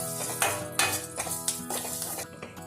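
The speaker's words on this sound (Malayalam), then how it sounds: "മഞ്ഞൾപ്പൊടി ആഡ് ചെയ്തതിന് ശേഷം അതിനെ ഒന്ന് ജസ്റ്റ് വഴറ്റുക." Turmeric powder is sautéed in a pan for an egg curry, making a close, busy sizzle with rhythmic scrapes and metallic clinks from a stirring utensil.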